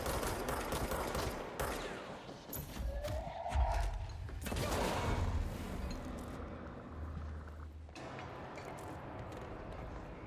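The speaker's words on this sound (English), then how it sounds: "That pistol sounds like the DMR from Halo Reach" Pistol fire from the action game Control, a run of sharp shots mixed with dense game effects and low thuds, loud and continuous across the scene with no talking.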